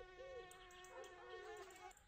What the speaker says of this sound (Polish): Komar mnie bardziej denerwuje.